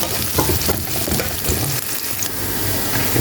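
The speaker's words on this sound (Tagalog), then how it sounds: "karon namulan na ang atong sibuyas" Onions fry in a pan while cooking halang halang, with a loud, steady close sizzle and crackle throughout.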